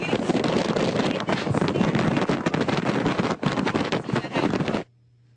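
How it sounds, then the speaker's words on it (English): Strong hurricane wind from Hurricane Sandy in New York buffets the microphone in a loud, steady roar with gusting surges, cutting off abruptly near the end. "Looks windy."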